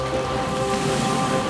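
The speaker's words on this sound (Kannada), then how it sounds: "ಮಳೆ ಬಂತು, ಮಳೆ ಬಂತು," Rain falls in a Motu Patlu cartoon scene as a steady, even patter over a faint sustained tone, with no speech.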